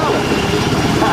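A Rhode Island Army National Guard helicopter touching down at an airshow, its rotor and engine giving a steady, loud whirring roar, with a voice talking over it.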